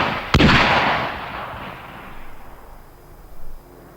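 A single loud blast from a 3.5-inch bazooka, an aluminium-tube rocket launcher fired electrically, bursts out sharply and then rolls away in a long fading rumble with a faint echo near the end.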